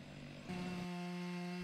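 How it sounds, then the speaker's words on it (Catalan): Forestry crew chainsaws carve sculptures from pine trunks at the Fira de Sant Isidre 2024 in Bellver de Cerdanya, with a steady, high-pitched engine drone that shifts pitch partway through and carries on without any talk. "Doncs amb motoserres."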